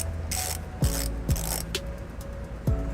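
A hand ratchet turns an 18mm socket to clean the threads of a weld nut while installing a trailer hitch on a 2007 Toyota RAV4, giving quick rhythmic clicking bursts with a few sharper clunks, close and loud.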